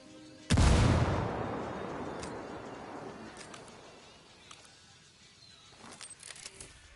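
A frag grenade explodes in a video game, a single loud, close boom with a sudden onset that fades into a long rumbling decay, followed by faint scattered debris and ambient sounds.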